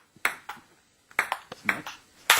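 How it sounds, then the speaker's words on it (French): A small ball bounced on a table in an indoor room, giving sharp isolated taps in a few short groups with quiet gaps between them. "j'ai la balle, toujours, la petite balle là, sur la table"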